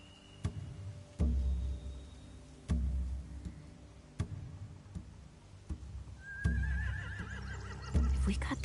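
Horses whinny in a game scene from The Walking Dead: The Final Season, with several short neighs and snorts spread across a busy backdrop of thuds and ambient noise, and one rising whinny standing out near the end.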